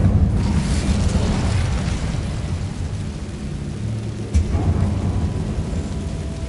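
An Incendio fire spell erupts in Hogwarts Legacy with a loud, sustained rumbling roar that fills the whole stretch, marked by a sharp burst partway through.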